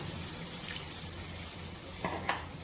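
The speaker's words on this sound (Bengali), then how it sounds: "সবজিগুলো আরেকটু সেদ্ধ হওয়ার জন্য আমি জলটা দিচ্ছি" Hot water poured into sautéed vegetables for a dried fish curry makes a brief steady hissing rush, with two small splashy bursts near the end; no talking.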